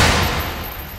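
A time bomb explodes in Generation Zero, a loud broadband blast whose rumble decays steadily over a second, heard alone with no voices.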